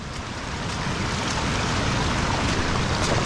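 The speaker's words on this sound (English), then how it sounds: "A little river." Rushing water of a small river crossing a mountain hiking trail, a steady broadband wash that stays loud and continuous for the whole stretch, close to the listener, with some wind buffeting the microphone.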